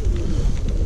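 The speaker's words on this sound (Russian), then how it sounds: "Да, ейские двухчубы." Yeysk double-crested pigeons give a brief, low, throaty coo close by, lasting under a second.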